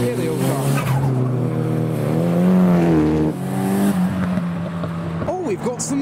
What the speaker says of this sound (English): You can see there's a convoy, two S14s and an S15, and a few more in front.